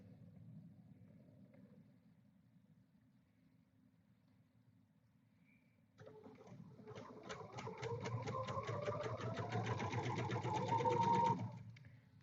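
A sewing machine stitching a quilt block, faint rumbling at first, then a rapid run of needle strokes that grows louder and ends abruptly.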